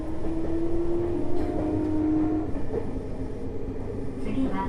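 A Tokyo Metro 05 series subway train with Mitsubishi IGBT traction equipment runs along at steady speed, heard from inside the car. A constant rumble sits under a sustained motor whine that holds and then fades.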